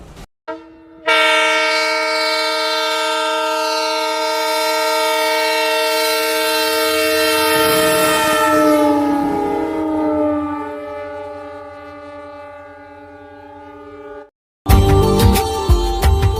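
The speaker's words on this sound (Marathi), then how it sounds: "बीडच्या रेल्वे स्थानकावर रेल्वेची जुगजुग ऐकायला मिळणार आहे" A train on a high-speed trial run at Beed, Maharashtra, horn blaring long and loud, holding steady for many seconds before cutting off, followed by a brief burst of rumbling noise.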